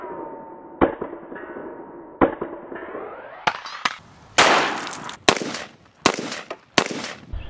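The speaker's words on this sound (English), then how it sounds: "Soft shooting 380, probably one of the softest shooting 380s I've ever shot, and it's very accurate." .380 pistol fired in a series of sharp, loud reports, about nine shots at uneven spacing, each followed by a short ringing tail, with no talking between them.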